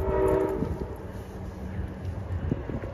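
A VRE commuter train rumbles past on the rails with a steady low roar and rattle, a brief horn tone at the start, heard from trackside with wind noise.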